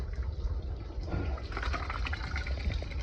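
Hot water is poured over a grain bed of moonshine mash during sparging, a faint low liquid splashing and filling that grows busier partway through, with no talk.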